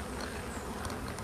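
Honeybees inside an open beehive hum in a dense, steady drone, close and even throughout with no pauses.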